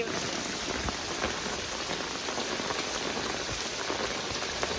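Heavy village storm rain pours down in a dense, steady hiss of drops pattering on surfaces, unbroken and close throughout.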